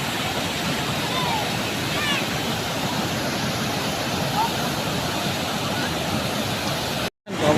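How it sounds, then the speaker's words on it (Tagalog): Strong rushing water roars steadily from a waterfall formed at a former broken bridge, a loud unbroken wash of noise with brief faint voices over it before a sudden cut near the end. "mga bulwak yung tubig galing sa baba"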